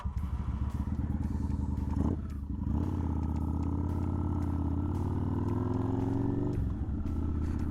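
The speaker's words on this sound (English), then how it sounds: "so he's grabbing his Harley." A Harley-Davidson motorcycle idling and revving nearby, a steady low rumble with a brief dip and a throttle surge partway through, with light clatter and no talk.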